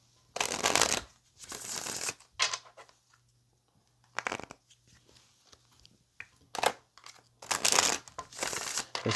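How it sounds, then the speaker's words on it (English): Tarot cards being shuffled in several quick riffling bursts separated by short pauses, close and crisp with no talking. "so we're going to go ahead and shuffle"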